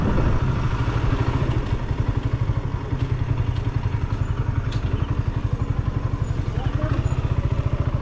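Motorcycle engine running on a ride to Apo Whang-Od, a close, rapid rhythmic chugging throb that holds steady throughout, with people talking over it.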